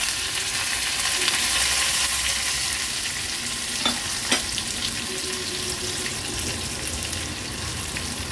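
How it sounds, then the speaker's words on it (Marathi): Chopped onion and curry leaves sizzle steadily in hot oil for a tempering in a Maharashtrian kantole thali, with a couple of faint utensil taps and no talking. "बारीक चिरून घेतला आणि कढीपत्त्याची पानं ती देखील फोडणीला घालणार आहोत।"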